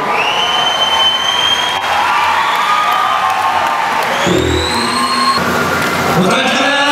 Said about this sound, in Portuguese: Vou chamar as palmas também.